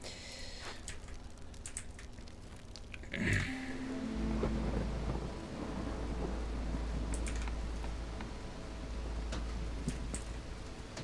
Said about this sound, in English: At the very least, this storm isn't going to be a problem.